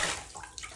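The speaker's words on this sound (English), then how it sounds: "fill up your tub and start splashing around." Water splashing in a filled bathtub, a brief close burst of sloshing and splatter that tails off quickly.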